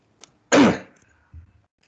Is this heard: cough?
yes